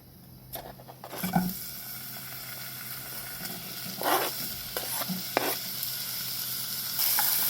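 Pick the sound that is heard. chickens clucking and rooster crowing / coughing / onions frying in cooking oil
onions frying in cooking oil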